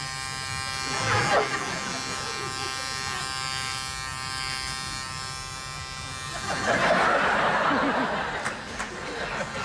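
A voice imitates Mr. Bean's electric shaver, a strong buzzing drone that runs through the clip and swells near the end, mixed with chuckles and laughter from people nearby.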